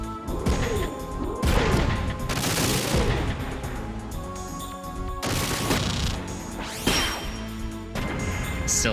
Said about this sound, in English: Machine gun on that tank is actually quite scary.